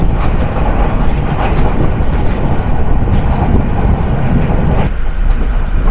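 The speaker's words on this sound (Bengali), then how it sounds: "ওই পাশ দিয়ে ছেড়ে যাচ্ছে আন্তনগর অগ্নিবীণা এক্সপ্রেস" Intercity express train, the Agnibina Express, pulling away on the neighbouring track near Dhaka: a loud, close, continuous rumble with clattering wheel noise and rattling carriages that carries on steadily throughout.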